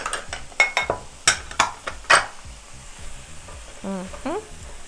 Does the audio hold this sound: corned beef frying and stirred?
yes